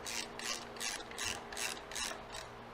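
Bolts on the light bar side of a Harley Ultra Classic are loosened with a ratcheting tool, giving about six evenly spaced rasping clicks that sound close and moderately quiet.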